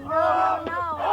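Brief burst of crowd cheering and yelling at a holey board tournament final, loud and near, with a short clap-like accent partway through.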